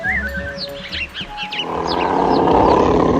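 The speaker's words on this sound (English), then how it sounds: "He suddenly heard a loud roar." Birds chirp and tweet at first, then a deep, loud roar swells up and holds, rumbling over the background.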